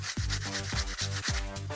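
A nail file shapes a cat's claws, making close, soft rasping strokes that repeat in a steady back-and-forth rhythm of about four passes.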